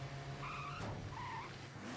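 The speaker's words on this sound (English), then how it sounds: "hit Kuze with the car" Car engine and tire noise in the Yakuza 0 video game, a steady low drone with brief squealing tones, fairly faint and continuous.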